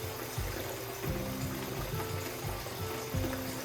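Water squirted from a cheap squeeze bottle rinses the last material out of a gold pan, a steady close trickling and sloshing of liquid running for several seconds with no talk.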